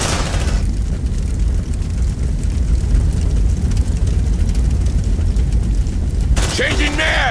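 A grenade goes off in the sci-fi squad game Aliens: Dark Descent on hard difficulty, a loud, sustained blast and roar that fills several seconds before cutting off abruptly, with battle noise and voices around it.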